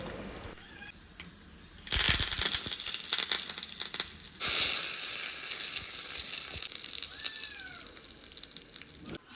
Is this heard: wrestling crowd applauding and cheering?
no